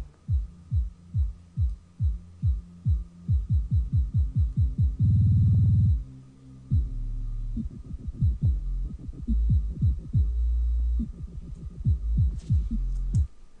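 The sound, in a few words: soloed low frequency band of dubstep track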